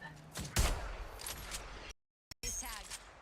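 Rapid gunfire in a trench warfare video game, bursts of sharp cracks and a heavy close shot, with a brief dropout of silence partway through.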